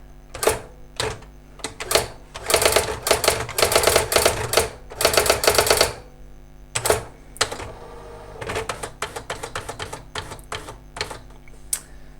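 A Brother AX-15 electronic typewriter types in quick bursts of crisp mechanical strikes and whirring carriage movement, with pauses between runs of keystrokes and a quieter stretch near the end.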